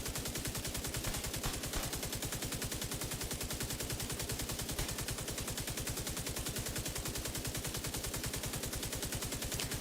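Continuous automatic gunfire in Rainbow Six Siege, a rapid, perfectly steady stream of shots that runs without pause from start to finish at a moderate, even level.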